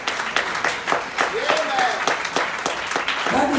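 A church congregation applauding during a service, dense sustained clapping across the whole stretch with voices calling out under it.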